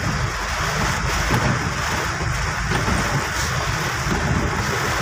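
Heavy rain pours steadily over Quezon City streets, a loud, dense, unbroken wash of noise throughout.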